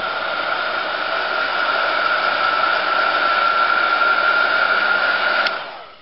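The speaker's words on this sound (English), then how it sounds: "use your trusty hair dryer" A hair dryer blows steadily on freshly painted miniature figures with a constant whirring hiss for several seconds, then switches off and winds down at the end.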